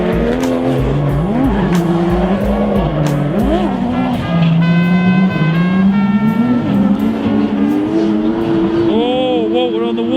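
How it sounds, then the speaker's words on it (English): Several Japanese performance race cars launch on a track, roaring close by, engines revving hard and rising in pitch, with tires squealing and skidding as they accelerate away. "Track is clear. Send the cars. Send them!"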